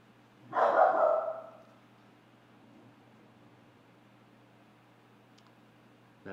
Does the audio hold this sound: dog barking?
yes